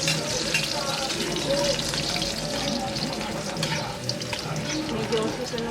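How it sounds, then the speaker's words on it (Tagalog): Chopped garlic frying in hot cooking oil in a pan, a steady close sizzle and crackle running throughout with faint kitchen clatter and occasional voices in the background. "Medyo susunugin ng kunti ang bawang."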